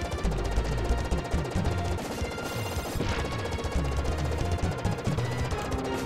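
Rapid gunfire in the retro video game Contra III, a steady stream of loud repeated shots over chiptune game music and effects, with no talking.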